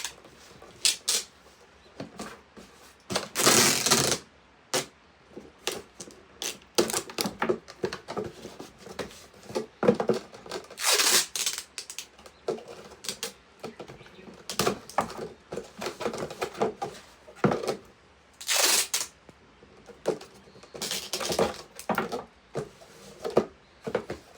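Packing tape pulled off the roll and pressed across a cardboard shipping box, a series of sharp ripping and rustling bursts with irregular pauses, close by and moderately loud.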